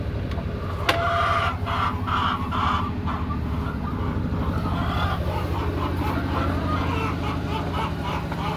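Hens clucking in a coop, soft and close, against a steady mechanical hum, with a sharp click near the start.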